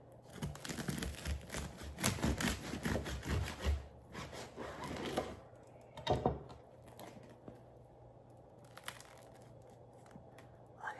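A knife saws through a crusty loaf of cinnamon swirl sourdough, giving close crackly crunching strokes in bursts over several seconds, then quieter crumb rustling and brief handling sounds.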